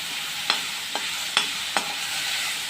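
Tomatoes and large green chilies are stirred in a hot pan, giving a soft steady sizzle broken by four or five sharp scraping clicks of the spoon against the metal.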